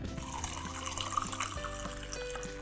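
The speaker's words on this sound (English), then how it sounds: "Top off with a little club soda." Club soda is poured into a highball glass to top off a rosemary and honey vodka spritzer, a soft, quiet splashing pour heard under steady background music.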